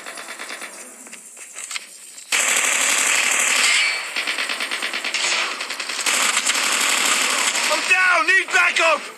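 Groza assault rifle firing in Call of Duty, rapid automatic bursts of gunfire in several long strings, loud and close, with game sounds and a voice talking over parts.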